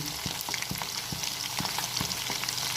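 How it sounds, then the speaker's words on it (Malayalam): Chicken pieces frying in a pan give a steady, dense sizzle, with soft periodic pops or stirring taps about every half second, close and continuous with no talking. "ചിക്കൻ അങ്ങനെ കിടന്ന് അവിടെ പൊരിഞ്ഞ്"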